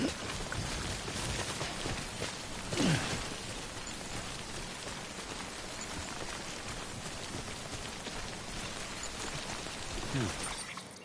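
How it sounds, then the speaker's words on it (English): Steady rain falls in the video game Death Stranding, a constant dense hiss with faint splashes throughout. "Don't stay out in the rain any longer than you have to."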